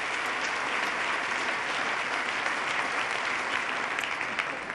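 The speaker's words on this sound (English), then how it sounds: "let's start by giving Pat a big round of applause for coming up and sharing his story" Sustained applause from a large audience at the 2014 New York State of the State address for a guest who shared his story, steady dense clapping filling the hall throughout.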